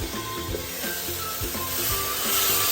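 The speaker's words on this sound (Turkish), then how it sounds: "Ben şimdi suyumuzu dökeceğiz." Water poured onto roasted semolina in a pot, a dense hissing sizzle with bubbling and scraping, loud and continuous, no voices.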